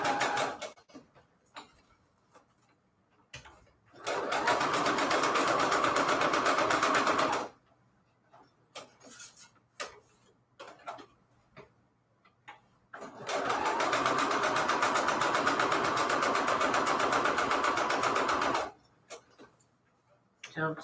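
A sewing machine stitches envelope pages for a junk journal in two sustained runs of rapid, even mechanical whirring, with quiet pauses and handling noises between bursts.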